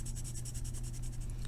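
White charcoal is rubbed in quick, rhythmic strokes on textured paper to lay down a thicker line. The scratching is faint and close-up, about a dozen short repeated strokes, with no talking.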